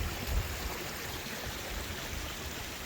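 A mountain stream in Snowdonia runs down toward Llyn Idwal lake, giving a steady, soft broadband rush of flowing water heard at a modest distance, with no voices.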